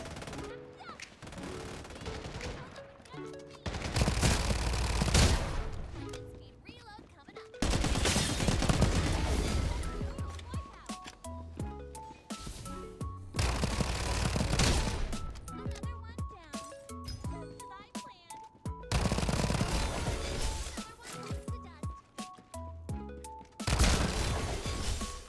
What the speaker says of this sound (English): I still hear shooting over here.